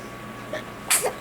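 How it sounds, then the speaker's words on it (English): A small baby's single sharp sneeze, close and brief, preceded by a faint little breathy sound. "She sneezes a lot."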